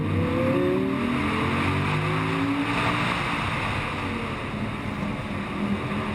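A powerful V10 sports car engine drones steadily at high speed on an open road, loud and continuous with a slight rise and fall in pitch, no voices.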